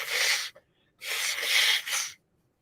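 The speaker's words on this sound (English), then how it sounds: "I had to blow my nose" Two short bursts of forceful, breathy nasal blowing, close up, separated by a brief pause, with silence after.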